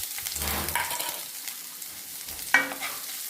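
Chopped onion and curry leaves hiss and sizzle in hot oil for a thoveran stir-fry, with stirring scrapes and a sharp clink of a utensil against the pan near the end.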